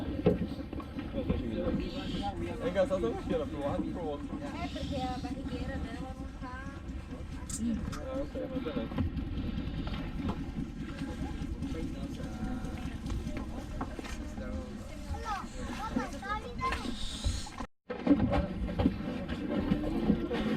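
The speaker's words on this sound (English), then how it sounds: "We're getting ferried over in the blue boat there." A ferry boat engine drones steadily, low and loud, crossing to Malapascua Island in the Philippines, with wind buffeting the microphone and people talking over it.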